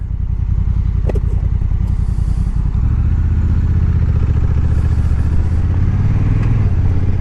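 A Honda NT 1100 motorcycle rides along with a steady, loud engine drone close up, its pitch shifting as it changes speed, with a brief clatter early on and no talking.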